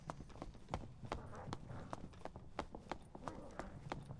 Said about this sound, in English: I'm hearing footsteps.